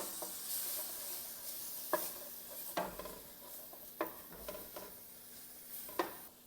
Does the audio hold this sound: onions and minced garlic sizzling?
yes